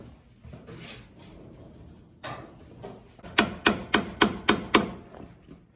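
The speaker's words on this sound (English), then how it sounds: "I'm gonna tap this with a hammer" A hammer raps on a metal part of a Briggs and Stratton engine six times in a steady rhythm, sharp and close, after a few quieter knocks and shuffling.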